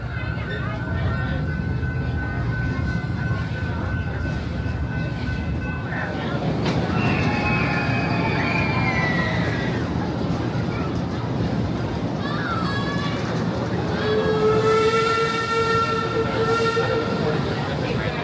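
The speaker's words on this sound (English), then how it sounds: "please remain seated till the train comes to a full and sweet stop" Theme park train ride at Busch Gardens Williamsburg rolling steadily, with a constant rumble of wheels and carriage, occasional squeals and tonal whines, and an onboard announcer's voice speaking over the running noise.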